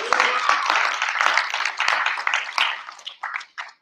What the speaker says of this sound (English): Can we give a round of applause to ToyHabits.com